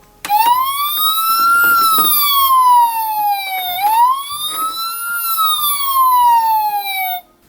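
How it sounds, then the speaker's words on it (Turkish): A loud, close ambulance siren wails in two long rising-and-falling sweeps with rich harmonics, arriving to take away an injured man. "Şimdi ambulans gelir. Ha işte geliyor bakın."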